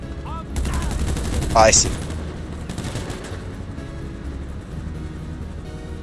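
Gunfire crackles throughout a firefight in GTA Online as a steady stream of rapid shots against a rumbling background, while a player speaks briefly over it.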